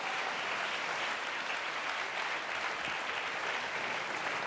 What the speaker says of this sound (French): On peut applaudir Laurane Rudolph